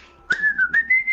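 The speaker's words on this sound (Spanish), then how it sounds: "No silbéis, no silbéis, no silbéis" Someone whistles a short, clear tune of four or five sustained notes, fairly loud and close, with a few quick breathy onsets between the notes.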